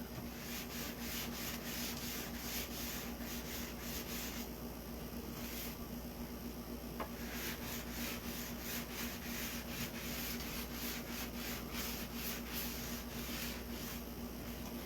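Sandpaper rubbed around the edge of a pizza-pan doorhanger, a steady rhythmic scratchy scrubbing in quick repeated strokes, close and fairly quiet, with no talk.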